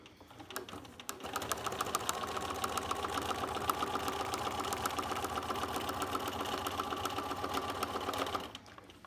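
A sewing machine stitches around an appliqué, running steadily with a fast, even mechanical whir and needle chatter for about eight seconds before it stops.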